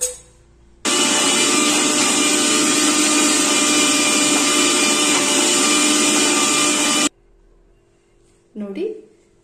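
A mixer grinder blends masala into a smooth paste, roaring loud and steady for about six seconds with an abrupt start and stop, followed by a brief voice after it shuts off.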